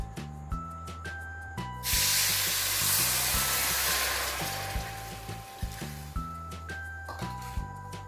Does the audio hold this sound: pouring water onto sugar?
yes